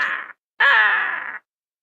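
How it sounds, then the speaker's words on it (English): A hadeda ibis gives two loud, harsh calls close by, a short burst followed by a longer drawn-out one, with a brief gap between them and silence after. "A ha-dee-da. It is spelled exactly how you think it's spelled."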